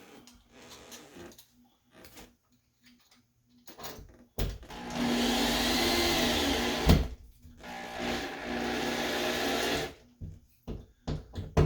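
A power driver spins a screw into a wall to mount a towel bar, giving a few short whirring bursts, then a longer sustained run of several seconds, then more brief pulses close by.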